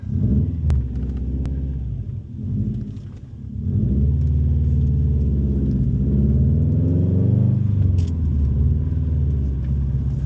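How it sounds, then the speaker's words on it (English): A 2018 Subaru WRX STI pulls away in first gear: a deep engine rumble dips briefly, then swells into a louder, steady drone as the car accelerates. "Let's put the car in first and we'll see how it works."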